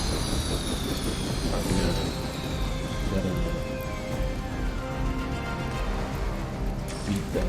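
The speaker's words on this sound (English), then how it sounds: "Stop that chopper, please." A helicopter in the video game Marvel's Midnight Suns, a loud sustained whirring roar with a descending whine, steady and continuous under game effects.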